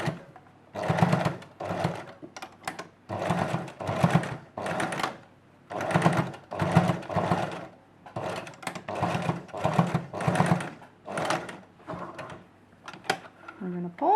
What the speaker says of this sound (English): We're going to do a stitch here in the middle of the front and back